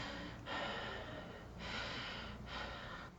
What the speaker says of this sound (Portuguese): Quando ela atende, só ouve uma respiração pesada.